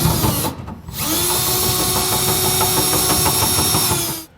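Power drill boring a hole through the metal frame of a 2018 Ram 3500 truck bed, a loud steady grinding whine that drops out briefly after a short burst, then runs continuously for about three seconds before stopping.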